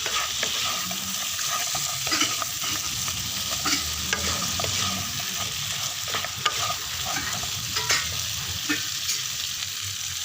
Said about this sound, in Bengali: মাছ দিয়ে দিয়েছি, মাছ মিশিয়ে নিব।